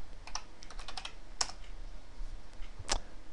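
Typing on a computer keyboard: a quick cluster of light key clicks, a pause, then two louder single keystrokes spaced apart, close and alone with low room noise.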